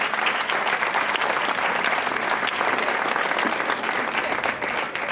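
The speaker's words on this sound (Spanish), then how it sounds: "Un fuerte aplauso" A strong round of applause for the helpers at an official presentation, loud continuous clapping from a crowd that holds steady for several seconds.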